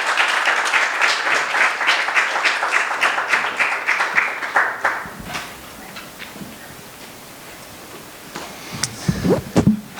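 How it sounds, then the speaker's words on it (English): A conference audience applauds a speaker, a warm burst of clapping that fades out after about five seconds, followed by a few scattered claps and faint shuffling noises. "So please, a round of applause for Governor Josh Green."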